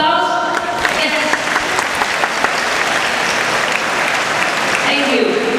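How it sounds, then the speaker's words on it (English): Loud, dense applause from a graduation ceremony audience filling the whole stretch in a steady continuous roar of clapping, with crowd voices mixed in. "Is it possible if I will ask for one more round of applause?"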